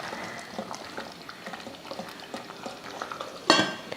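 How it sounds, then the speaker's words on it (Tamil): Steady bubbling and simmering of water with mutton in a pot for biryani, with soft clinks and scraping from stirring and a brief louder clatter near the end. "நல்லா கொதிக்க ஆரம்பிச்சிருச்சு பாருங்கள்"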